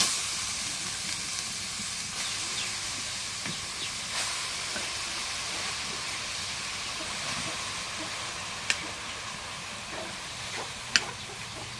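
Radish greens frying in a pan at home, a steady loud hiss and sizzle throughout, with a couple of sharp clinks from a utensil against the pan.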